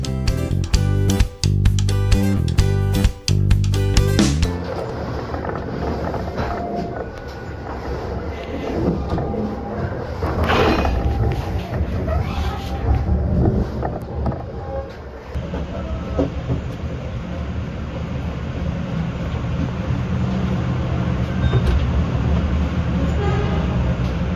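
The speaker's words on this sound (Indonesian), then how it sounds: "kereta api Bengawan diberangkatkan dari stasiun Lempuyangan, Jogja menuju ke tujuan akhir stasiun Pasar Senen" The Bengawan passenger train pulls out of Lempuyangan station in Jogja, opening with loud horn blasts, then a rumbling roll and rhythmic clatter of wheels over rail joints that builds steadily as the train gathers pace.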